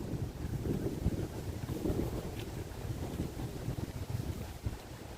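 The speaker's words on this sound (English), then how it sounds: "so quiet and windy" Steady nor'easter storm wind at Sheepshead Bay, Brooklyn, buffets the microphone with a low, continuous rumble that rises and falls in gusts, with no one speaking.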